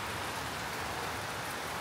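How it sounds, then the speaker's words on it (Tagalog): Steady rain falls outside a home on a wet evening, a soft, even hiss of drops that carries on unbroken with no voices over it. "Ulan yung ating weather."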